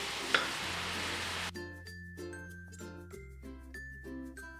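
Ghee and jaggery syrup are stirred into a rice-flour mixture for traditional Kerala kumbilappam, giving a brief, close, hissing, scraping stir before gentle tonal music takes over.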